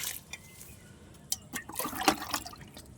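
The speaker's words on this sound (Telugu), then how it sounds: "దీన్ని కూడా పోసేస్తున్నాను." Liquid fertilizer is poured from a container onto a cotton hibiscus plant in a rooftop garden, with quiet splashes and trickling in a few short bursts.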